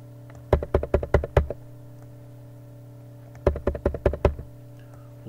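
Computer keyboard keys are tapped in two quick bursts of about six clicks each, separated by a short pause, close and crisp while code is typed.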